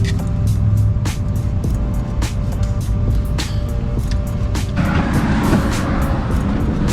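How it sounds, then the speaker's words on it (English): A loud Ford Mustang engine rumbles steadily close by, with sharp clicking transients throughout and a rougher, harsher roar building near the end. "they have no idea how loud this car is"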